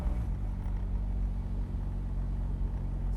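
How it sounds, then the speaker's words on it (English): Classic 1970s Fiat 500 engine revving, a steady low rumbling drone that holds loud and even throughout without distinct peaks. "Give it a big rev up."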